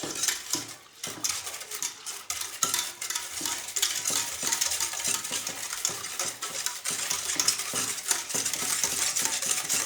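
Bread malai roll mixture with sugar being stirred steadily, giving a close, continuous scraping and swishing of a utensil against the bowl with no voices.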